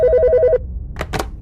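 A telephone bell rings indoors in a police office in a Korean drama, giving a rapid trilling ring for about half a second before stopping, followed by a couple of soft handling clicks.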